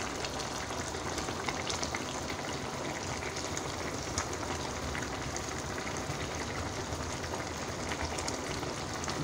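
Okra frying and sizzling in a pan, a steady crackling hiss that carries on evenly throughout at close range with no talking.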